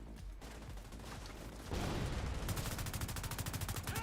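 Gunfire in The Division 2 video game: a dense burst of rapid automatic shots, loud and close, preceded by a brief lull with background game noise.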